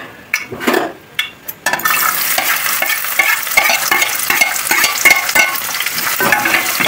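Onion drops into hot oil in a pot, and after a few short scraping and clinking knocks a loud, continuous sizzle bursts out, crackling steadily up close with spoon stirs and no voices.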